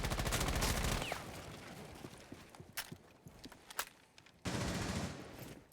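Gunfire in the video game Rainbow Six Siege during an esports match: a dense burst of rapid shots at the start, then scattered sharp single cracks and footstep-like taps, ending with another loud sustained volley.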